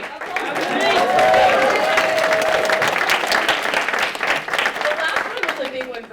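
Audience applauding, a dense close wash of clapping that swells and holds for several seconds, with a voice and crowd chatter mixed in.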